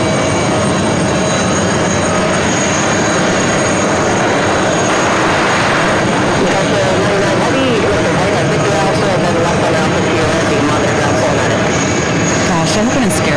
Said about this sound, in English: Cargo King of the 777 freighter next to arrive 31 right